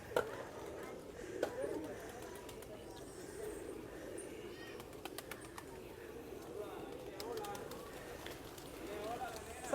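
Pigeons coo softly and shuffle about in a park in the old town of San Juan, Puerto Rico, with scattered wing flaps and footsteps under a steady murmur of people talking nearby.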